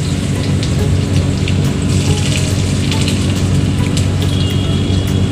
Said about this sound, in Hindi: प्याज को हल्का फ्राई करेंगे।